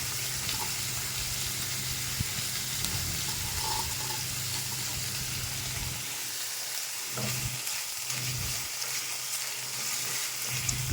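Small dried fish and onions frying in a pan, giving a steady, close sizzle that hisses evenly throughout with no talk.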